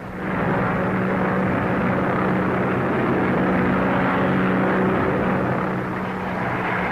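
A propeller airplane flies overhead in a 1935 film, its engine a loud, steady droning hum that holds at close range throughout before easing slightly near the end, with no talking.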